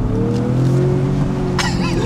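A hybrid SUV engine revs up with a rising tone, accelerating loudly and close by, ending in a brief higher-pitched burst.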